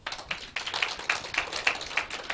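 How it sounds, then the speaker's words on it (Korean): Audience applause for teachers at a Korean school academic presentation event, a steady patter of fairly faint clapping from a room of people with no talk over it. "선생님들께 박수 한번 부탁드려요."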